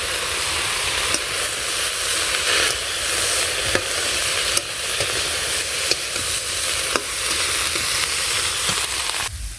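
Green chillies, Kashmiri chilli, chilli powder, turmeric and salt sizzle and fry in a hot pan, with a steady hiss broken by periodic scraping and stirring strokes, close and continuous.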